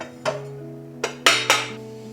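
Metal cooking pots clink and clatter against one another in a kitchen cupboard, four sharp knocks spaced unevenly over a couple of seconds, close and fairly loud with quiet gaps between them.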